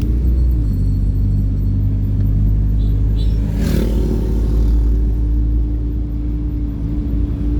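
An old, worn-out vehicle's engine rumbles loud and close while driving on a road trip, a steady low drone with rattling body clatter and a brief surge midway, no talk over it.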